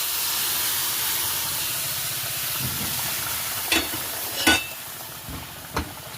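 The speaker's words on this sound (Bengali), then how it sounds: "এবার এই মশলার সাথে মাছের সাথে আমি মিশিয়ে দেব আগে থেকে সিদ্ধ করে রাখা ডালটি" Boiled mung lentils being stirred into a pan of fish head and spice mix: a steady low sizzle and steam hiss, with a few sharp scrapes and clacks of the spoon late on.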